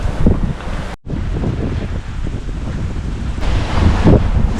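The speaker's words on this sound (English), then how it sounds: "the wind has finally decided to pick up and be the right angle right when we actually get to our spots" Wind rushing steadily over a sailboat at sea, with broad blustery noise buffeting the microphone and a brief dropout near the start, swelling louder toward the end.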